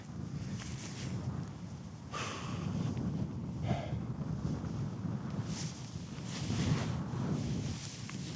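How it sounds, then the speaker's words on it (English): Steady wind buffeting the microphone on an outdoor disc golf course in Denver, a continuous low roaring rush that swells and eases throughout with no talking. "Oh, that headwind, that got in my head a bit."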